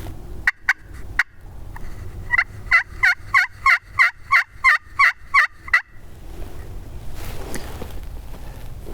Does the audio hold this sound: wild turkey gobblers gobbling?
yes